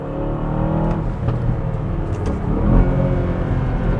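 An Aston Martin DBX 707 SUV engine drones and revs in a low, rumbling baritone in Sport Plus mode, building slightly louder toward the end, steady and close.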